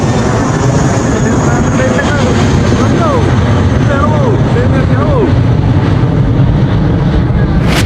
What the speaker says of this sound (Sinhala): යාළුවනේ ප්ලේන් එකක් යනවා